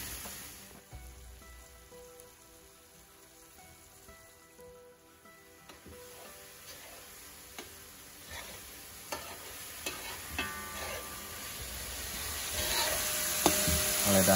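Okra and shrimp fry in a pan with a steady sizzle and scattered pops and stirring clicks, growing slightly louder toward the end, with no talking.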